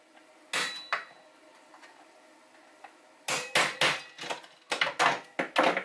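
A small screwdriver is struck to knock friction-fit parts out of a full-auto Rayven build, giving sharp metallic taps, a few sparse hits and then a quick run of about eight close, loud strikes.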